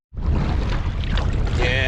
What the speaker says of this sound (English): this wind is just starting to make it impossible to troll out here